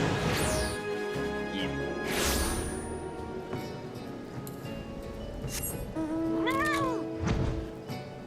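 A fat cat mount in Final Fantasy XIV gives a few distinct meows amid game effects, including thuds and crashes, with a louder rising meow near the end; no one speaks.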